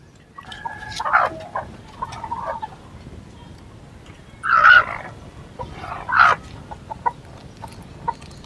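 Chickens cluck and squawk in a few separate bursts of varying loudness, with short quieter clucks trailing off between them and no talking.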